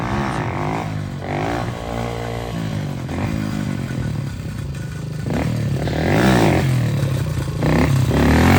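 Motorcycle engine running steadily during wheelie training on a one-day course, with rumbling tone rising in revs toward the end, close and continuous, with some clattering and scraping.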